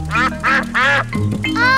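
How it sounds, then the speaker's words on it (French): Several loud, nasal cartoon duck quacks in quick succession, close by, with a short lower-pitched honk between them. "les canards"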